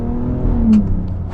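A 2026 Ram RHO pickup truck's engine pulling under acceleration, a steady loud low drone with a rising tone, heard close from inside the cab, with no talking.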